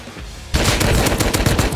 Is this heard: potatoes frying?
no